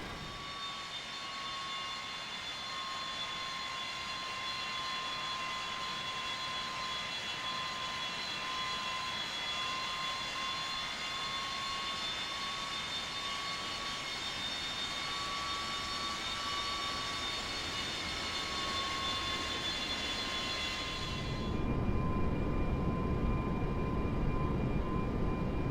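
Boeing 727 jet engines spooling to takeoff power in the X-Plane 10 flight simulator: a steady loud whine with high turbine tones, then a sudden deep roar swelling in as the engines reach full thrust.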